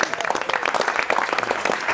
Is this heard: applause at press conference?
yes